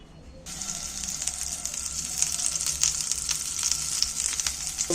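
Steady sizzle of egg-and-onion pieces frying in a spoonful of oil, a bright continuous crackle that starts abruptly and holds near and even throughout, with small pops and no talking.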